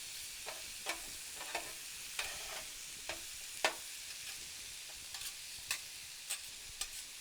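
Onions and mushrooms frying on a griddle, a soft steady sizzle broken by repeated sharp scrapes and taps of a spatula, with no talking.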